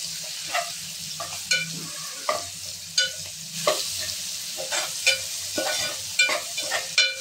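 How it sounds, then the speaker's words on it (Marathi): Tomato sautéing with prawns in a pan for a spicy Agri-Koli prawn curry: a continuous close sizzle broken by regular spatula scrapes and stirring knocks roughly every half second, with no voices. "टोमॅटो घालायचा आहे, टोमॅटो चांगला परतवून घ्यायचा आहे"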